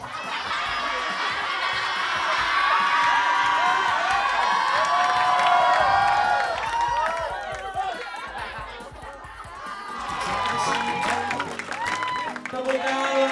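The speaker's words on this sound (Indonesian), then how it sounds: "Tepuk tangan luar biasa" An audience claps, cheers and laughs after four young children from a ballet school finish a short ballet dance on a TV stage, loud and lively at first, easing off midway and then swelling again with scattered chatter.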